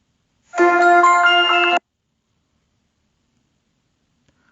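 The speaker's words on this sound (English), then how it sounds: "I can change my ringtones over here." A bright, melodic Android phone ringtone plays for about a second, loud and clear, then silence follows with a tiny click at the very end.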